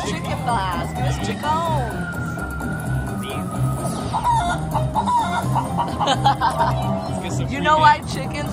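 Cartoonish chicken clucks and rooster-like calls from the Journey to the Planet Moolah slot machine's chicken blast feature, mixed with chiming game tones and jingles, while a person talks and reacts excitedly over it.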